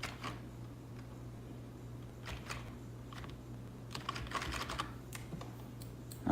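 Computer keyboard keys clicked in scattered bursts during a flight-simulator session with an American Airlines Boeing 757-200, some presses close together and others spaced apart, fairly quiet over a steady low hum.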